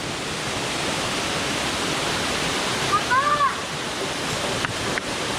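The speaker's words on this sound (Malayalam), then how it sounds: "വെള്ളച്ചാട്ടത്തിന്റെ മുകളിലെത്തിപ്പോ" Perumbankuthu waterfall in Mankulam thunders as a loud, constant roar of cascading water from close by, with a brief voice surfacing midway above the steady rush.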